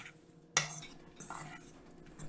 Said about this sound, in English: Then I just take a fork, stir it around, and get it all evenly coated.